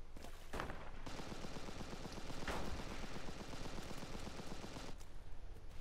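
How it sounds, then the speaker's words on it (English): Distant, quiet gunfire in a shooter video game: a sustained rattling fusillade of rapid shots, fairly even throughout, with a couple of slightly louder bursts. "Oh, they're shooting at the last remaining guy."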